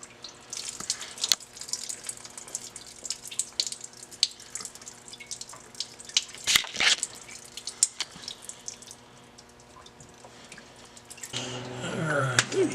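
Coolant drips and splashes from an '04 Subaru STI during a thermostat replacement, irregular close drips and trickles patter onto a surface, growing into a steadier splashing flow toward the end.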